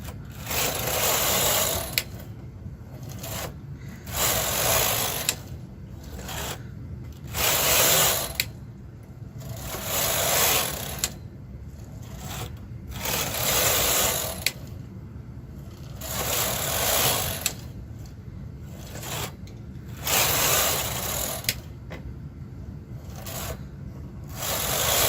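A knitting machine carriage knits rows at tension 3 on a sock, giving a steady rhythmic rasping whir that repeats in regular back-and-forth passes, close and continuous, with no talk.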